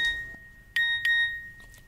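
A mobile phone sounds a text message alert: two bright electronic chime tones in quick succession, clear and close over a quiet room.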